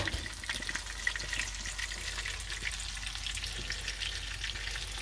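Steady, dense sizzling of hamburgers frying in a pan on a houseboat, a continuous crackle with faint clinks, close and fairly loud throughout with no talking.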